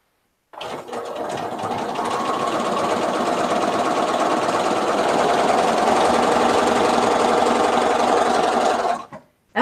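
A sewing machine runs steadily for about nine seconds while stitching a quilt of blue fabric that may contain polyester, a close, even mechanical whir with no pauses and no talk.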